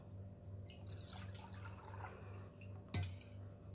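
A small amount of water poured into sweet curd while making curd rice, giving a faint, steady trickle and splash close by with a low hum underneath and a brief louder knock near the end.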